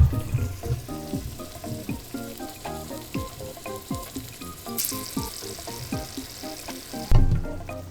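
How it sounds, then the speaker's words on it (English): Potatoes sizzle steadily in a hot frying pan, with small crackles and pops throughout and a brief clatter near the end. "I think the pan's finally warm enough because now the potato is like, oh, she's sizzling."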